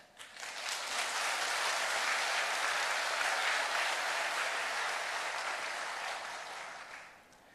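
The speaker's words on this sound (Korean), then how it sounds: "나오실 때 큰 박수로 환영해 주시면 감사하겠습니다" A church congregation gives sustained, loud applause to welcome a new senior pastor, a dense wash of clapping that swells quickly, holds steady for several seconds and then tapers off.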